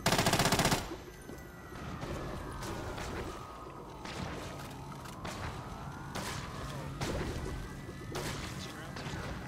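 Gunfire in a Black Ops 3 zombies custom map: a loud opening burst, then a steady stream of weapon shots and game effects under a sweeping electronic tone and busy in-game noise.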